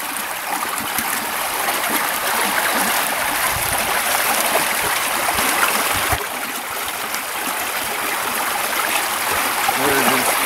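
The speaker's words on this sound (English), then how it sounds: "it's flowing big time though. This water movement's excellent." A fast-flowing stream rushes steadily in a broad, continuous hiss of moving water, close and constant throughout, with occasional gurgles and a voice speaking over it at times.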